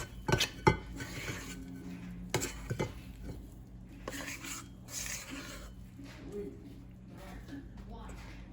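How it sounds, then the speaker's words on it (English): Food in a pan stirred briskly for a few seconds, with a couple of sharp utensil clatters against the pan early on and a quieter, steady scraping afterwards. "So what I'm going to do now is just kind of give it a quick stir around."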